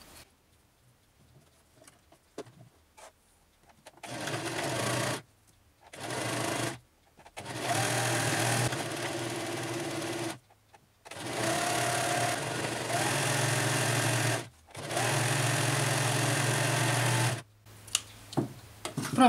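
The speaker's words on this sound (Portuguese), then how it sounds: "Então agora a gente vai passar a costura aqui em cima." A sewing machine stitches the seams of a women's blouse in several quick, whirring bursts, each a few seconds long, separated by short quiet pauses with light handling sounds.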